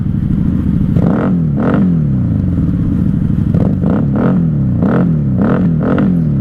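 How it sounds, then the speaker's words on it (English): A 1994 Honda Magna 750 VF750C V4 motorcycle, stopped at a light during a night highway ride, revs loudly and close in about eight quick throttle blips, each rising and falling over a steady idle. "Alright, I'll give you a rev."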